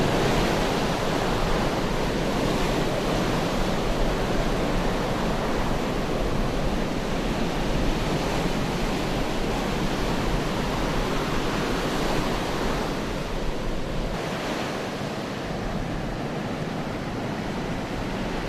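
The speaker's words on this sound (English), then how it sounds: "Coast of the wilaya of Sohar in North Batana governorate experienced rising waves due to the start of indirect impacts of tropical cyclone Shaheen" Heavy surf pounds the coast of Sohar in North Batinah governorate as tropical cyclone Shaheen approaches, making a dense, continuous roar of breaking waves with a faint dip in intensity near the end and no voices.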